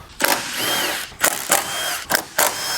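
Ratchet tightening bolts on a car part, five sharp bursts of clicking with short pauses between them, close and clear, with no talk.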